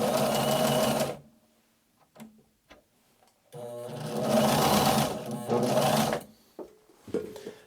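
Sewing machine stitching automotive upholstery, running in two loud bursts of steady mechanical whirring separated by quiet pauses with small clicks and handling noises.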